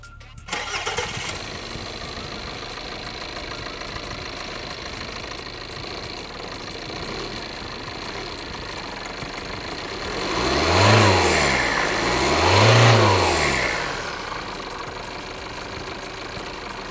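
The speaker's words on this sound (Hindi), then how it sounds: "इंजन स्टार्ट करते हैं।" A 2025 Tata Sierra diesel engine cranks and catches after a brief start, then settles into a steady, loud, gravelly idle with two rising-and-falling revs near the end.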